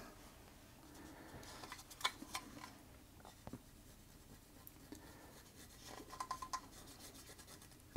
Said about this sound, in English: I'll just get a cotton bud and try and neutralize some of this corrosion here.